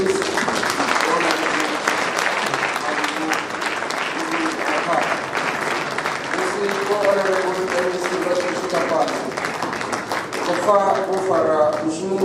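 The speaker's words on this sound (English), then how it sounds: "join me in applause in welcoming the MEC of Education in the province" Audience applause fills a send-off function for a university professor, a steady dense wash of clapping throughout with cheering and voices rising over it, including melodic shouts or ululation toward the end.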